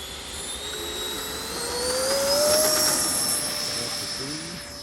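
A Freewing A-4E/F Skyhawk 80mm electric ducted fan RC jet with a burner takes off with a loud, steady, high-pitched whine that swells to a peak and then eases slightly as it climbs away.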